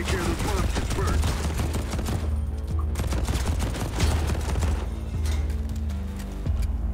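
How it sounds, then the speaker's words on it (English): Dense gunfire and blasts fill a hectic firefight in the video game Deadcide Club as an RPG is fired at the player, a continuous loud barrage with heavy low booms and crackling shots. "Bro shot an RPG at me"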